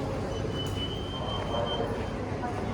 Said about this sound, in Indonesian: Ini MRT tuh.